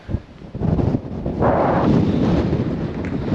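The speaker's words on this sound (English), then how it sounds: "It's gale force winds up here." Gale force wind buffeting the summit of Mt Augustus in Australia at about 1,050 metres, a loud, steady roaring rush with heavy gusts pounding the microphone, no voices.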